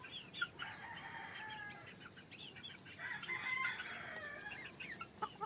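Young roosters at a gamefowl farm crowing and clucking close by, several birds overlapping in a steady stream of calls with no talk.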